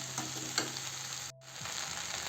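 Okra and tomato cooking uncovered on a low gas flame: a steady soft sizzle, close and even, with a few faint stirring taps and a brief gap near the middle.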